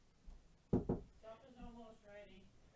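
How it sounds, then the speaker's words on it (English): Two quick knocks on a bedroom door, close and sharp, followed by a voice speaking briefly. "I just heard my mom knock on my door"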